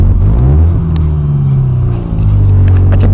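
A 1993 Mazda MX-3 on the move gives a steady, loud, low engine drone and road rumble from inside the car, with no breaks.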